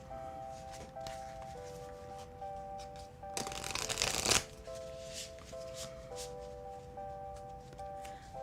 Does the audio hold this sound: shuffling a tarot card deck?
yes